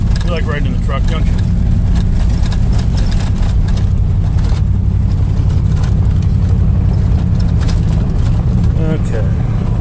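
A truck rolls down a mountain road with a steady, loud engine and road rumble that fill the whole stretch, with faint rattles over the top and no clear talk.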